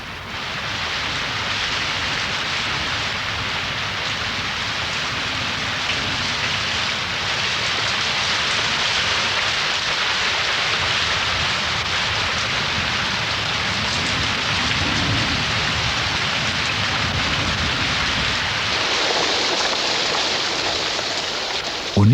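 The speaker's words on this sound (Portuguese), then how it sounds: "as chuvas voltam em grande quantidade" Heavy rain pours steadily and densely throughout, a loud continuous hiss of falling water after a long dry season, with a faint low rumble of thunder underneath and no voices.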